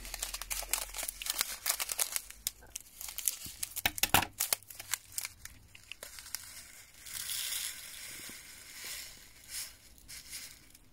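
A plastic bag is crinkled and stuffed into an already full space, making loud, close, irregular crackling and crumpling bursts that ease into softer rustling toward the end.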